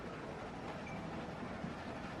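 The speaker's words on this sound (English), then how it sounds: "Stop the train, man." A moving train in The Walking Dead video game gives a steady, low, continuous rumble that stays fairly faint throughout, with no voices over it.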